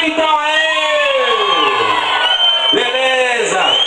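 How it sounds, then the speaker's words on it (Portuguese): Festival crowd at a São João forró night in Barra do Itaípe, Ilhéus, shouting and cheering loudly and continuously, with high whoops and yells rising over a dense wall of voices. "Quem torceu hoje pelo Brasil, dá um gritão aí."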